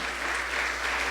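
Church congregation applauding during a Sunday worship service, a dense, steady clatter of many hands clapping at once, loud and continuous throughout with no talk over it.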